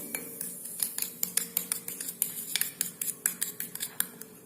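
A spoon stirs lemon juice, a pinch of salt and baking soda in a small dish, giving a quick rhythmic run of bright clinks and scrapes, close and fairly loud, with no talking.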